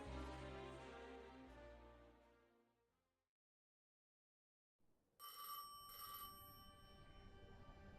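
In the video game Destiny 2, an old telephone rings in two short sharp bursts after a fading low tone and a silent gap, followed by a faint lingering hum.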